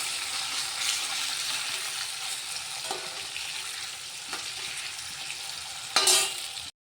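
Sardines sizzle steadily in a frying pan, a dense, continuous hiss of hot oil with a few sharper pops and a louder spatter near the end, close by with no voices.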